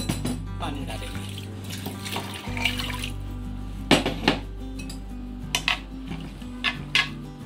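Water is poured from a large mug into a pressure cooker holding dal in a home kitchen, a soft steady flow joined by several sharp metallic clinks of the vessel near the end.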